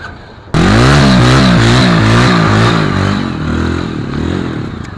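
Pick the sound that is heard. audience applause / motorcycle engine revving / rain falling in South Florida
motorcycle engine revving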